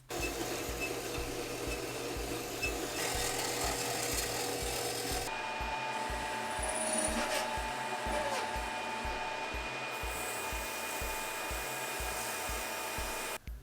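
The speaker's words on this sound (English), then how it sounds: "I'll cut this up into little pieces for a flat pad" Cutting 4-inch-wide, quarter-inch-thick hot rolled steel plate into small pieces, a continuous loud grinding whine with a rhythmic pulsing drone and a shift in tone partway through, no voices.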